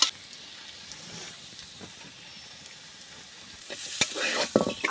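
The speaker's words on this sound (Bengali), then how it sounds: "আলু পোস্তটা ভালো করে নেড়ে নেবো" Potatoes with poppy seeds sizzle in a pan while being stirred, steady frying hiss with scraping strokes that grow louder and busier toward the end, no voices.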